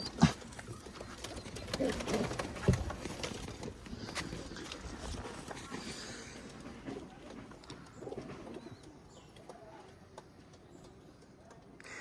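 A Nakta pigeon from Khulna coos softly while being handled close by, with rustling and a few sharp bumps at the start, fading toward the end.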